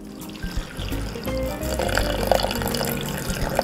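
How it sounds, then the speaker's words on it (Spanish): Water being poured from a cup into a dish while making vegan soy ceviche in a home kitchen, a steady close splashing pour with faint clinks over low room noise. "Vamos a echarle una taza de agua."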